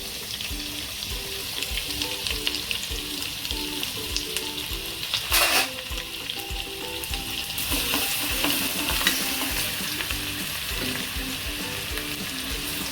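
Mustard seeds, cumin, ginger and garlic fry in hot oil with a steady, close sizzle and crackle, joined by scraping stirring sounds and a brief splash midway.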